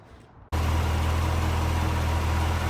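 A Cadillac CT5-V Blackwing fitted with a K&N air filter fires up inside a closed garage, a sudden loud roar that settles into a steady, heavy, deep-throated engine drone, close and alone with no talk.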